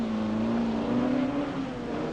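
Alpine race car at the 1961 Le Mans 24 Hours coming in, its engine a steady, loud drone with a sustained low tone throughout, close by and alone.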